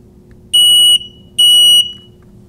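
A household smoke detector sounds two loud, steady, piercing beeps when its test button is pressed, each about half a second long with a short gap between, over a faint low hum.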